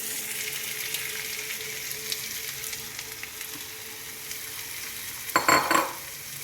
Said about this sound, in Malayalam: നമ്മൾ സവാള ചേർക്കുന്ന സമയത്ത് ഒന്ന് കൈ കൊണ്ട് ഒന്ന് ഇങ്ങനെ ആക്കി കൊടുത്താൽ പെട്ടെന്ന് അത് വാടിക്കിട്ടും